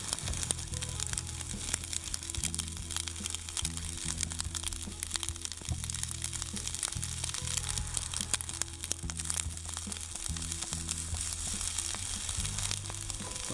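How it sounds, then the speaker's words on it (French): A campfire burns outdoors in windy weather, giving a continuous dense crackling and popping with a rough low rumble underneath, steady and close throughout with no talking. "Le feu quand même brûle bien."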